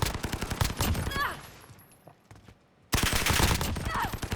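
Rapid bursts of PP19 Bizon submachine gun fire in Call of Duty Modern Warfare, loud and close, with a short lull in the middle before another sustained burst.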